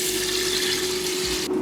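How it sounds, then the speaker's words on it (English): Cold water running from a tap into a bowl of couscous, a steady close gushing pour with a faint hum under it, cutting off abruptly near the end. "And then I'm going to cover those in cold water."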